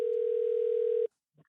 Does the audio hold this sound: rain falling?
no